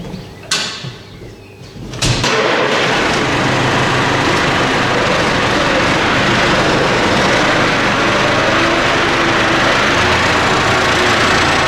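A tractor mowing grass for silage starts with a few clunks, then settles into a loud, steady engine drone with broadband rumble that carries on unbroken.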